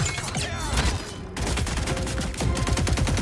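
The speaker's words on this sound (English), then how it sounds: "Why are you shooting at a..." Gunfire in the Mortal Kombat 11 video game, a dense, continuous burst of rapid shots rattling loudly for a few seconds with no break.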